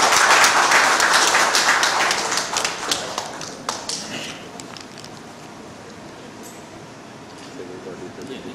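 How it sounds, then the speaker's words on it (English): Loud applause from a crowd at an evening presentation, dense clapping that gradually thins and fades out over several seconds. "A huge round of applause for Ramesh, sir."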